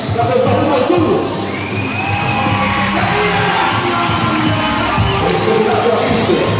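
A loud crowd at a Miss and Mister beauty pageant cheers and shouts continuously, with whoops and yells rising above a dense roar of voices; applause may be mixed into the din.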